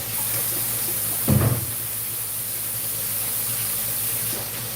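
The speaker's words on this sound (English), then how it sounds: "I'm going to wash my hands." Tap water runs steadily into a kitchen sink while hands are washed, a continuous broadband hiss with a brief louder splash or knock near the start, no talking.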